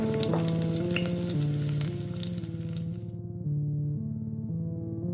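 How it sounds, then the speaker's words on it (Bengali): Fish sizzles and crackles steadily in hot oil over background music, then the frying noise cuts off, leaving the music alone. "তেলে মাছ ভাজতে লাগলো"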